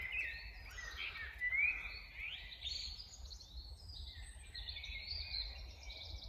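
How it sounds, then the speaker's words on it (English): A chaffinch sings in woodland, bright descending trills and chirps repeating amid a busy chorus of other birdsong over a low, constant background rumble, with no one talking. "chaffinch,"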